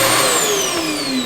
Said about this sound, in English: We do have a central vac system here.